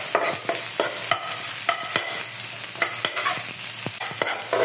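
Garlic, onion and ginger stirred and sautéing in a pan for ginataang kalabasa with sitaw and crab, a steady close sizzle broken by repeated scraping strokes of a spoon, with no talk.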